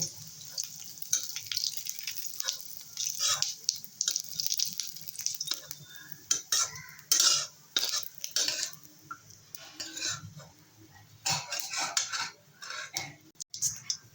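A metal spoon scoops fried cumin seeds out of hot oil in a pan, giving scattered light clinks and scrapes against the metal with short pauses between them, close by and fairly quiet.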